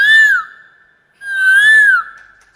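A performer on a talent show imitates a cuckoo with the voice, giving two clear whistled calls that swoop up and down, each about half a second to a second long, loud and close, with a short pause between.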